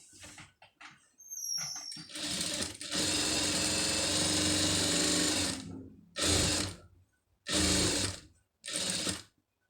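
An electric sewing machine stitches a silk-border blouse neck design in bursts: a few short taps, a long steady whirring run of about three seconds, then three brief runs separated by pauses, close and clear without talk.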